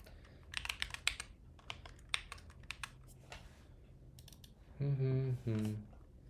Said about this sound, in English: All right, let's see how I do typing on this keyboard flat.